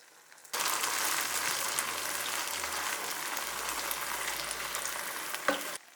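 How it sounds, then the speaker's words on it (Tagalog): Hotdogs frying in a pan start sizzling abruptly and keep up a steady, close crackle for several seconds, with a faint low hum beneath and no speech. "Lutuin na din natin yung mga hotdog."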